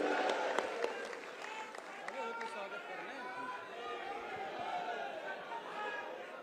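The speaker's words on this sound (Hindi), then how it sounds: "एक बार जरा तालियों की गड़गड़ाहट से स्वागत करेंगे।" Crowd applause at a BJP political party event in India, a burst of clapping mixed with lively chatter from many people, strongest at the start and fading into ongoing murmur.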